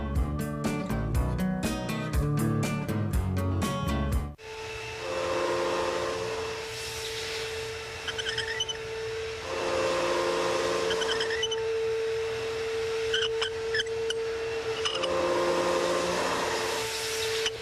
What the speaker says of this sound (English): we created the Atlantis Deep Steam Extractor